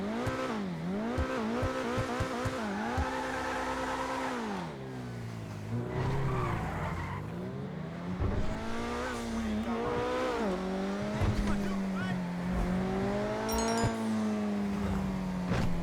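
An Invetero Coquette D10 sports car in GTA Online revs and accelerates, engine pitch sweeping up and down through gear changes with tire squeal and skidding, loud and close, a voice talking briefly over it.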